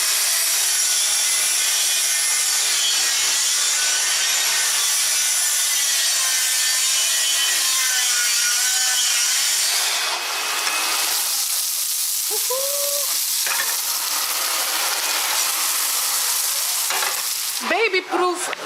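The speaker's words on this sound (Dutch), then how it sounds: "Babyproof zaagje, want ja, dan maakt het nogal lawaai." Continuous rasping strokes of a small hand saw cutting through wood, steady and close, with a few brief squeaky sounds near the end.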